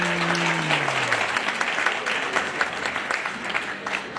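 Steady applause from a gathered audience at a Haitian celebration, dense and continuous clapping throughout, briefly mixed with a fading voice at the start.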